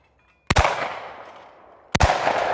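Two loud shotgun shots fired at clay targets during shooting practice, each a sharp crack with a long reverberating outdoor tail, the second about a second and a half after the first.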